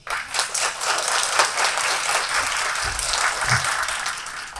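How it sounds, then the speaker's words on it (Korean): Audience applause after a talk at a Korean youth conference on local community and glocal talent, dense steady clapping from a sizable crowd throughout, with a few faint voices underneath. "이한덕 대표님 다시 한번 큰 박수 부탁드리겠습니다"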